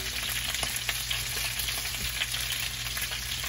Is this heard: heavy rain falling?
no